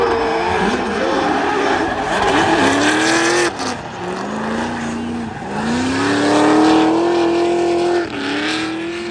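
Drift cars at the French Drift Championship at Bordeaux Mérignac circuit, including a BMW number 92 pushed from behind, loud engines rising and falling in pitch with screeching tires, continuous and close.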